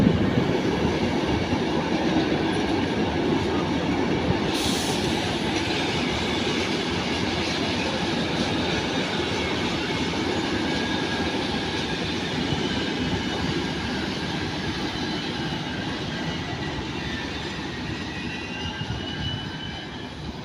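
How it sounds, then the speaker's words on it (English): A train pulls out of Brussels-Midi station, a steady broad rumble of wheels and rolling stock at moderate distance, continuous and unbroken with no voices. "So off departs this train finally."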